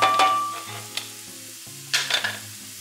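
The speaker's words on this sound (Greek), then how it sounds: "Όσο σοτάρετε το κρεμμύδι μας" Onion sautés in a frying pan with a soft, steady sizzle, broken by a few brief stirring scrapes close by, while low background music plays underneath.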